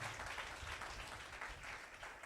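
A church congregation claps together during a Telugu Christian sermon, a steady wash of applause that stays at an even level with no voices on top.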